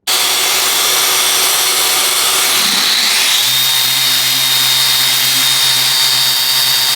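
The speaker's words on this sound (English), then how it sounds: "I'm going to start with the sander in turbo mode on the highest speed setting" Bosch GET65-5N random orbit sander running in turbo mode at its highest speed with 120-grit sandpaper on wood, a loud, steady, continuous whine that shifts pitch and rises partway through, close and without pause.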